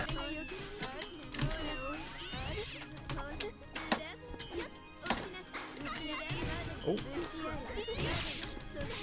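Cats meowing in the Umineko Golden Fantasia fighting game, several cat cries mixed with hit and crash effects and busy game audio while people talk over it.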